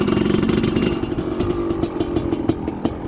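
A Honda CR500R with a 512cc big-bore two-stroke engine and balanced crank runs loud and close, a rough rapid idle with blips of revving.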